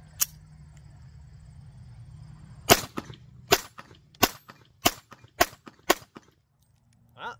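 Ruger LCP 2 compact .22LR pistol firing, six sharp, loud reports in an uneven sequence, each a brief crack with a short decay, following a few seconds of quiet low hum.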